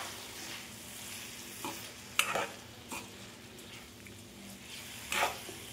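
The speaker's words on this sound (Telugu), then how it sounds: "మనం మరి ఇప్పుడు రైస్ వేసేసుకున్నాం" Rice for vegetable pulav is stirred in a hot pan. A soft, continuous sizzle of frying runs under a few scraping spoon strokes against the pan, with no talk.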